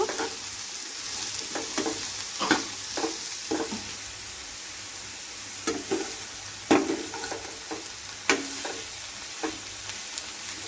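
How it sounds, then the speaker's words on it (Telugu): Prawns fried with ridge gourd pieces in a pan sizzle steadily while a spatula stirs, producing repeated irregular scrapes and knocks against the pan, close and clear with no talking. "మంచిగా వేగాయి రొయ్యలు ఇప్పుడు ఇందులో బీరకాయ వేసుకుందాము ఇలా మంచిగా కలుపుకోవాలండి"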